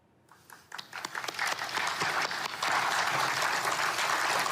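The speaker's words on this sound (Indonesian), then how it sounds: "Tepuk tangan hadirin menyambut resmi dibentuknya Dewan Perdamaian Gaza" An audience at the signing ceremony for the Gaza peace council breaks into applause that starts from a few scattered claps and quickly builds into sustained, dense clapping from many hands.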